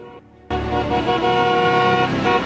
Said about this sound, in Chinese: 喇叭声一直响